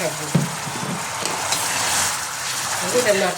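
Water added little by little to a hot pan of eggless plum cake mixture with the gas off, giving a loud, steady sizzle and hiss under stirring, with a few low bumps near the start.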